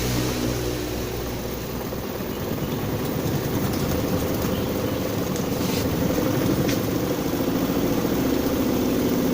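A Polytron PWM-7556 washing machine's spin dryer runs with a steady, loud, continuous low drone and whir, holding even for the whole stretch with no talking.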